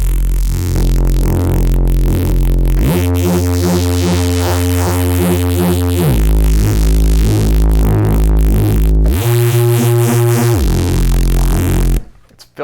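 A heavily distorted synth bass drives through a clipping compressor, with thick, buzzing reese-style notes shifting pitch in blocks of sustained, saturated tone before cutting off abruptly near the end.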